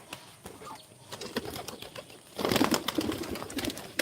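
Hungry pigeons pecking at scattered rice, with soft coos and a sudden burst of wing flapping and scrabbling partway through, louder and busier toward the end.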